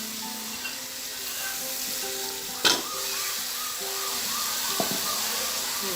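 Beef with nihari masala frying in a pot, a steady hissing sizzle close by, broken by a sharp clatter partway through and a lighter knock near the end, with no talking.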